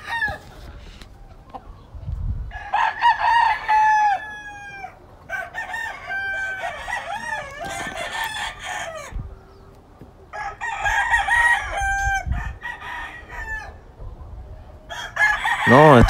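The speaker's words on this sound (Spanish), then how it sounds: "No, estos gallos son una chulada" Lacy Roundhead gamecock roosters of the Carl Davis line crow repeatedly in a farmyard, several loud drawn-out calls in sequence with soft clucking and faint talk between them.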